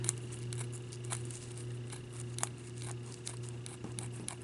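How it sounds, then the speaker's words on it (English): Scissors make faint, regular snipping clicks while cutting around a handmade angel Christmas ornament, over a steady low background hum. "keeping our scissors nice and straight"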